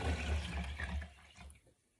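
Water rushes steadily into a pot of broth for chicken and dumplings, close and moderately loud, then stops about three-quarters of the way through.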